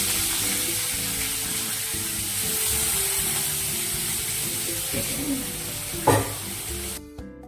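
Potatoes frying in a pan give a continuous loud sizzle, with a brief burst of stirring and spatter near the end before it cuts off; no one speaks.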